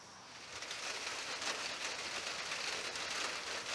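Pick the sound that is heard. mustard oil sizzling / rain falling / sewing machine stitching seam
rain falling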